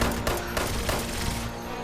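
Rapid gunfire from a pistol and a Gatling plasma weapon in a shooter video game rattles in a dense, continuous burst, loud and close.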